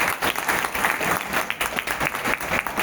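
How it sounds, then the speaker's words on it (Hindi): An audience applauds steadily at a business team meeting, dense continuous clapping from a room full of people, loud and sustained throughout. "तो ताली बजाओ अपनी।"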